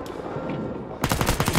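Close, loud rapid-fire gunfire from the Vietnam-era shooter Rising Storm 2: Vietnam rattles out as a quick burst after a second of rumbling ambient battle noise.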